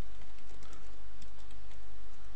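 Code is being typed on a computer keyboard with rapid, close key taps in an even patter, heard alone with no voices.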